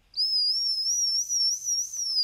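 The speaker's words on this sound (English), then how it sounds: "as you rotate the crankshaft in the direction of rotation, it'll actually whistle." A top-dead-center whistle screwed into a spark plug hole sings a steady, high, slightly wavering tone as the engine's crankshaft is turned by hand, heard alone for about two seconds with a brief dip midway.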